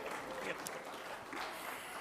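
Audience applause at a fan meet with actor Mahesh Babu and store staff, a steady broadband wash of clapping from a crowd lasting the whole moment, moderately loud.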